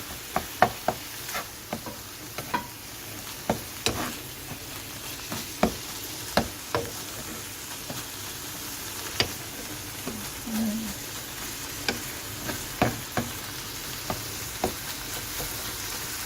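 Ground beef mixture fries in a pan for a keto meal, a steady sizzle running throughout with repeated sharp knocks and scrapes of a utensil stirring it, fairly close and with no talking.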